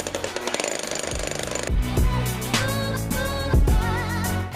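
A rotary hammer with a 5/8-inch bit drills into a home garage's concrete floor through a lift base plate, giving loud, close, continuous hammering with rhythmic pounding bursts.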